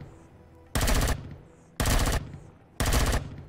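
Three loud bursts of rapid automatic gunfire from the video game Empyrion Galactic Survival, each lasting about half a second and evenly spaced over a quiet background.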